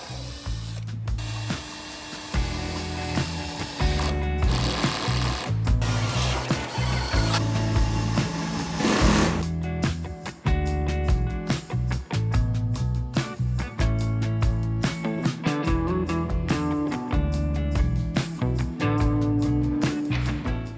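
Wooden legs of 50 by 50 mm timber are screwed to a frame module with a driver, heard as loud, close bursts of rapid ratcheting and whirring, stopping and starting in irregular spurts, with no talking.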